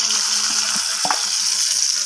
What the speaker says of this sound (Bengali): এইভাবে আমি মাছগুলোকে ভালোভাবে লাল লাল করে ভেজে নেব